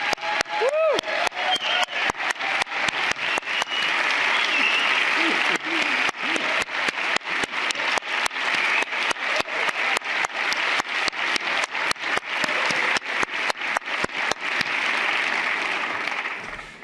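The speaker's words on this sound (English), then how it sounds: "could we have a round of applause for Leia and Francois, who've been working tirelessly behind the scenes" Sustained audience applause at a plenary session of a conference on growth and biophysical limits, dense and steady for about sixteen seconds before tapering, with a brief voice near the start.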